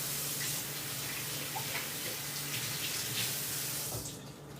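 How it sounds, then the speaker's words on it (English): Hands being washed under a running kitchen tap while prepping a sous vide pork belly meal, a steady close rush of water splashing into the sink that tails off near the end. "Wash the hands."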